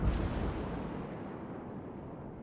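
A heavy naval gun salvo booms from a warship in the game World of Warships, a single deep blast at the start whose rumble slowly decays over the following seconds, with no voices.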